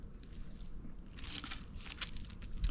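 Close, crisp crunching as fried mugwort tempura is bitten and chewed, brittle cracks coming in irregular bursts over a quiet background.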